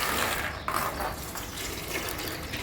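Cold water is poured from a bucket onto cardboard laid on a terrace, making a short, steady splashing rush close by.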